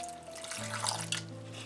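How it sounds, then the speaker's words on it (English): Water pours into a vegan zucchini frittata mixture, a short steady splashing stream over a low hum, close and moderately loud. "Now we can put a little more water."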